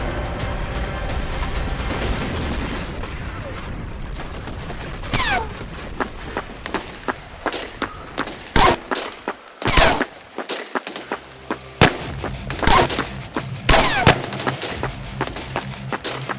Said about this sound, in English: Marines returned fire. 50 cals, Mark 19s, and 240s lit up the tree line.